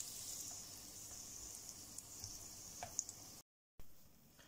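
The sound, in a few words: cauliflower in tempura batter frying in hot oil at 180 degrees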